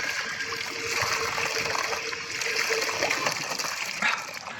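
Water gushes steadily from a spout or tap at an outdoor market, a continuous, close, loud splashing stream with no voices over it.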